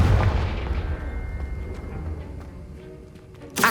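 A big explosion from the Confringo blasting spell in Hogwarts Legacy, a heavy boom that rumbles and fades over a few seconds before a sharp new burst at the very end.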